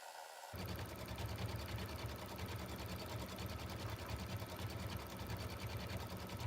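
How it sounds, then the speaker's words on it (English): A Brother Dream Machine embroidery sewing machine starts a letter emblem fill stitch and runs at a fast, even needle rhythm, steady and close with no voices. "we get our green button, which means the machine is ready to start stitching."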